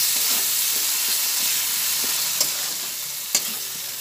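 Spices with a spoonful of turmeric powder fry in a pan over a low gas flame for a vegetable pachon, giving a steady close sizzle and hiss with occasional soft stirring clicks.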